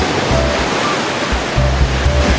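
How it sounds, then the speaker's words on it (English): Ocean waves wash onto the fine white sand of Bavaro Beach, a steady loud rush of surf with low rumbles and some wind buffeting the microphone, no speech. "Waves are pretty good today, at least right here."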